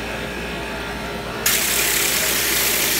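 A high-flow, low-pressure pump on a cooling tower cleaning system switches on abruptly partway through. A steady hum gives way to a loud, constant hiss of rushing water, heard close with no talk.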